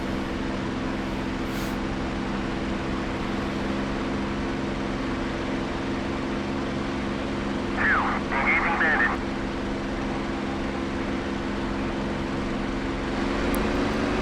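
P-51 Mustangs and other propeller warplanes in a DCS air-combat game, a steady droning engine hum with a constant low roar running throughout, moderately loud, with a brief radio-like chirp partway through.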